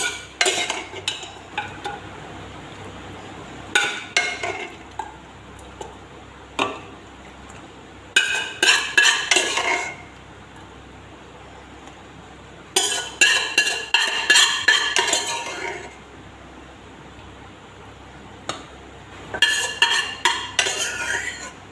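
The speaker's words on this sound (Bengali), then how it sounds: "খাসির মাংস সেদ্ধ হয়ে গেছে, এবার কড়াইতে নামিয়ে নিচ্ছি সব।" Metal pots and utensils clatter and scrape in short bursts while boiled goat meat is moved into a wok in a home kitchen, with quiet pauses between the bursts.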